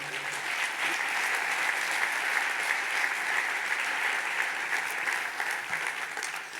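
Church congregation applauding during a Spanish-language sermon, a dense sustained wash of many hands clapping, loud and steady throughout.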